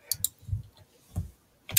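Someone types on a computer keyboard: a few sparse, close key clicks and taps with quiet gaps between them.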